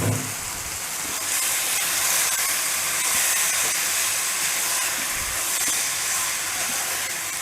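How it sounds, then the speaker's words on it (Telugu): Thai noodles go into a hot pan and set off a steady, fairly loud broadband sizzle and hiss that runs unbroken the whole time, with no voices. "ఇదిగోండి మనం పెట్టుకున్న నూడిల్స్ యాడ్ చేసేస్తున్నాం"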